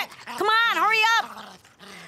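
Cartoon dogs bark and whimper, a loud drawn-out yelping whine followed by shorter yips, close and clear amid animated dialogue.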